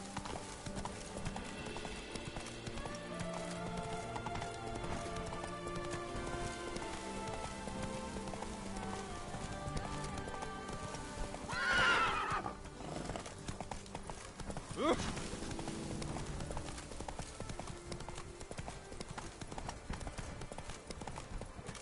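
Hoofbeats of a galloping horse ridden in The Witcher 3 video game, a steady clip-clop rhythm over a game music bed, with a brief louder swell near the middle and a voice urging the horse on.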